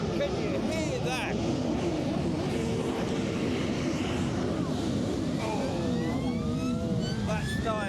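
An ambulance siren wails at a distance, rising and falling in sweeping tones, over a busy crowd and people talking nearby, in Glastonbury on a bank holiday.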